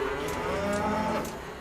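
Dairy cows lowing on a farm, a steady drawn-out moo with harmonic tones holding for over a second, fairly close and continuous against a busy barn background.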